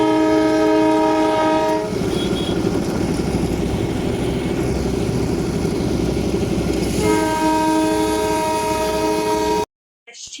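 Darjeeling toy train, the narrow-gauge mountain railway, passes close by with a loud continuous rumble and rattling wheels, framed by sustained horn blasts at the start and again near the end before cutting off.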